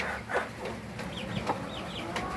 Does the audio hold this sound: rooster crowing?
yes